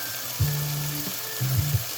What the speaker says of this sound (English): we're gonna let them do that sizzle